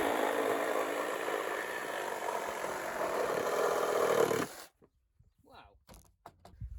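A reciprocating saw cuts through wooden boards for a steep mountain-bike ramp, a loud, continuous buzzing rasp lasting several seconds before stopping abruptly, followed by quieter scattered knocks and handling sounds.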